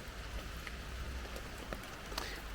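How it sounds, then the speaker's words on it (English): Steady rain falls in an Australian national park rainforest, making a soft, even patter of drops on leaves and surfaces. It is faint and continuous, with only the odd louder drop. "It's really rainy today"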